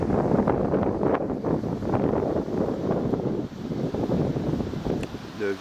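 Steady broadband winter wind rushing across the microphone, a continuous buffeting roar with no clear pauses, loud and close throughout.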